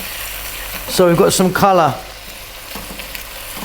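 Beef sizzles steadily as it is fried and stirred in a pan for Arab-style beef and rice, and a person talks briefly over the continuous frying.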